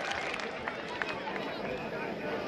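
A school audience claps for a quiz team in a continuous patter of many hands, with murmuring voices and crowd babble mixed underneath.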